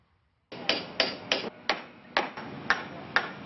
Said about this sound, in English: Every single swing of the hammer is bittersweet